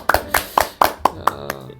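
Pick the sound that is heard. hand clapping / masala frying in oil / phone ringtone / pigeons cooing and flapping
hand clapping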